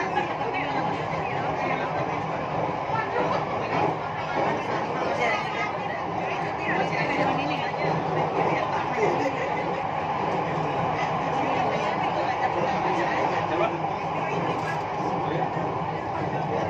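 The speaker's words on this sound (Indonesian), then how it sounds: "This is MRT Jakarta train in Moskow, Lebak Bulus" MRT Jakarta metro train running near Lebak Bulus station, a steady loud rumble and rolling hum of the carriages throughout, with passengers chattering faintly underneath.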